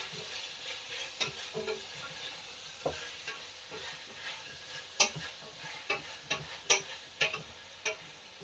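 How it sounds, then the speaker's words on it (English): Capsicum sautéing in a pan for a red lentil, sweet potato and pumpkin soup: a faint, low sizzle under a run of irregular ticking pops and stirring taps, growing busier toward the end, with no voices. "So I'm popping in the capsicum, and I'm just going to allow that to soften as well."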